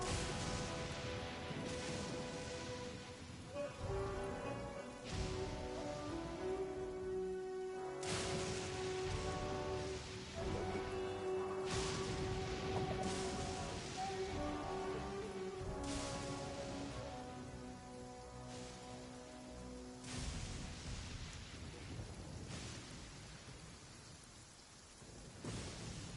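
Thunderstorm in Genshin Impact: steady rain pours throughout while repeated rolling thunder booms, some close and heavy, with soft music underneath.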